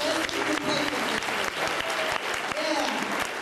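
Audience applause at a stand-up comedy show, a crowd clapping steadily with scattered voices mixed in.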